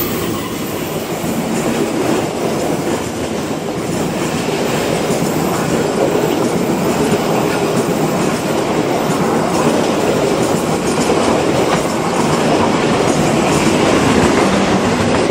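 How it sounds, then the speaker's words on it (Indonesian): An Argo Parahyangan passenger train rumbles past close by on the Jakarta-Bandung line, a steady loud roar of wheels on rails with faint clickety-clack, continuous for the whole stretch. "Nah, ada kereta yang melintas."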